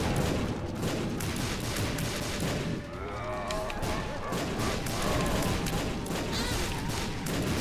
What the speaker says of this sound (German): Ich find's so lustig, dass man Satan mit Explosionen und so rumschieben kann.